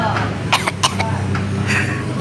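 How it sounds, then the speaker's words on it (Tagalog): A few short, sharp coughs break through a steady background hum, close and fairly loud, with a brief pause between the first and last bursts. "Pati ba yung ubo ko?"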